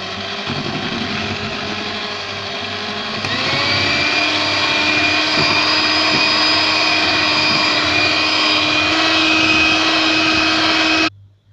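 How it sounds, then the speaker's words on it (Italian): Electric hand whisks beating gelato cream make a loud, steady motorized whir that rises in pitch a few seconds in as the speed increases, then holds for several seconds before cutting off abruptly, with no speech. "Lavorate il tutto con le fruste elettriche."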